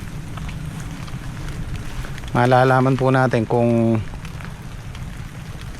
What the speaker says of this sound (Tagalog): Sa ngayon kasi umuulan